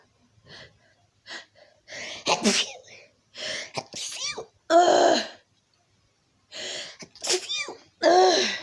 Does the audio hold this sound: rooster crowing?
no